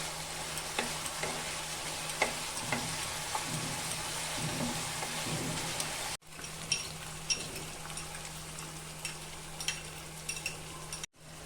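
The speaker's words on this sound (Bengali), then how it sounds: "গ্যাসটা বাড়িয়ে আমি একটু ভালো করে ভেজে নেব" Chicken korma frying hard in a pan over high gas, a steady dense sizzle with intermittent scraping stir strokes, loud and close, continuing throughout with no talking.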